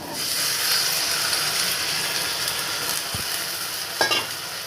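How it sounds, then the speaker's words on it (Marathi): Cluster beans tossed in hot oil in a home kitchen pan for a Maharashtrian gavar bhaji, giving a steady close sizzling hiss with a soft stirring scrape and a brief clatter near the end. "छान परतून घ्यायची तेलामध्ये 2 मिनिट"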